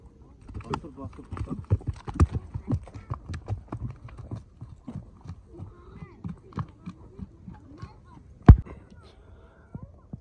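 Hooves of a horse clip-clop on hard ground at a horse market in Jalal-Abad, a close irregular run of knocks fading toward the end, with one sharp loud knock, while someone talks over it.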